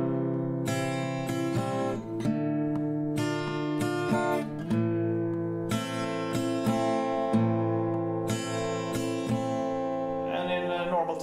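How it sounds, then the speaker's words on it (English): Acoustic guitar strums the chord progression of a song slowly, in a down-pause-up-up-down pattern, the strokes ringing close and clear on their own for about eleven seconds. "So in slow motion with the chord progression,"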